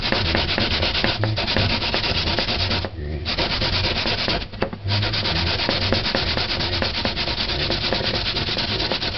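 Pumpkin being grated by hand for pumpkin seasoned rice, a steady, loud scraping rasp of rapid strokes that continues almost without pause, with two brief breaks, and no talking.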